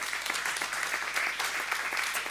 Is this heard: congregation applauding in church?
yes